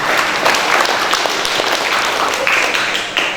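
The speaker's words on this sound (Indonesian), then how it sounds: "tepuk tangannya." A crowd at an IPSI pencak silat officials' inauguration ceremony in Tegal applauds for a former chairman, continuous loud clapping from many people throughout, dense and steady with scattered sharper individual claps.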